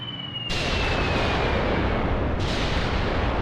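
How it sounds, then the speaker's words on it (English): Air support explosions in the Mius Front war game, a loud sudden blast followed by a long rumbling roar, with a second burst near the end, heavy and sustained with no talking. "They're blowing it all to smithereens."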